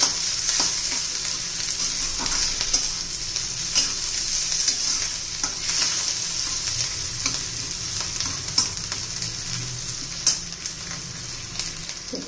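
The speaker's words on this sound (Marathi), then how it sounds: "नंतर शिमला मिरची घातली आहे, ती पण तेलामध्ये चांगली घालून घेऊ।" Capsicum frying in hot oil with onion for a masala Maggi dish, a continuous close sizzle with frequent spatula stirring and scraping, no voices.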